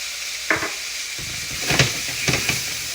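Food sautéing in a hot pan gives a steady sizzle and hiss, broken by a few louder stirring or flipping scrapes spread across the few seconds, with no talking.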